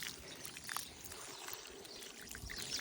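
A faint, steady stream of water pouring from a pipe, trickling and splashing quietly with no other sounds.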